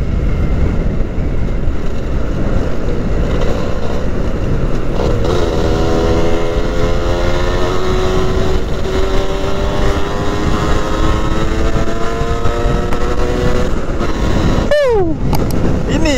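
A Modenas Dinamik 120 two-stroke motorcycle engine revs loudly and close, a buzzing rasp climbing in pitch under wind roar, then dropping sharply near the end.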